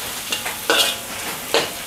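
Spice paste frying in a pan, with a soft constant sizzle and a few brief stirring scrapes, close and moderately quiet.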